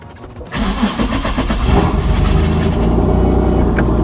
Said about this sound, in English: That starter is killing me.